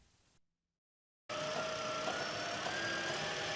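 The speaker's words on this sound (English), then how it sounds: "This car is making noise during idling" A 2009 hybrid car engine idles with a fault noise, a steady, fairly loud mechanical hum with a faint whine that starts abruptly after a short silence and holds evenly to the end.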